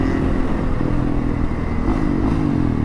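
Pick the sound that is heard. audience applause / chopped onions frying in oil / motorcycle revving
motorcycle revving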